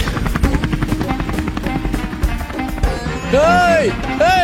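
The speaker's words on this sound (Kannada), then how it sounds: "ಹೆಲಿಕಾಪ್ಟರ್ ಕರ್ಸಿ ಹೆಲಿಕಾಪ್ಟರ್ ಆಫ್ ಮಾಡ್ಸೋ" Helicopter engine and rotor noise, a steady rhythmic beating drone held throughout, loud and close, with a rising and falling whistling tone near the end.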